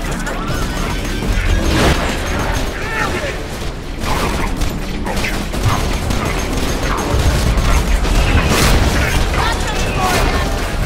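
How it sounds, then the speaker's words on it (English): Grenade blasts in the video game Borderlands 2 crash and boom loudly in rapid succession over continuous gunfire and game effects, with a player talking over the chaos. "You ready for my super OP grenades? Grenades!"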